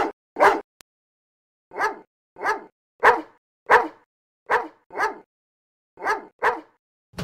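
Dog barking in the video game Phantasmagoria: a dozen sharp, close barks in irregular pairs and singles separated by silence, with no talking.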